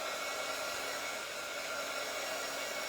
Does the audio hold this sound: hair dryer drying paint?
yes